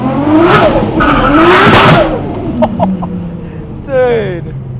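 A 600 hp Nissan Skyline drives hard, its engine revving loudly with squealing tyres, while voices shout and talk inside the car over the noise.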